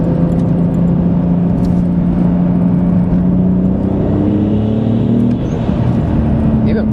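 A turbocharged car running on pump gas accelerates hard, its engine note climbing steadily in pitch as it pulls, loud and continuous from inside the car.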